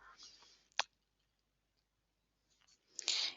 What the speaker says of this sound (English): So I'm just going to click on this.